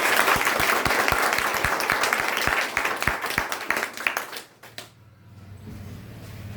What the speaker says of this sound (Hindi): उन सबके लिए एक जोरदार ताली यहाँ पे बनती है